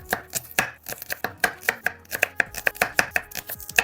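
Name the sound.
chopping onion finely with a knife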